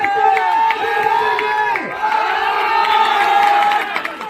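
A crowd at a gurukul ashram strength display cheers and shouts in a loud, sustained roar, with voices calling out over scattered clapping.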